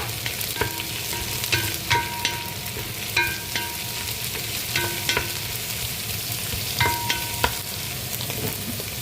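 Tinapa smoked fish sautés in a pan with onion and garlic, a steady close sizzle broken by repeated clicks and scrapes of a spatula stirring.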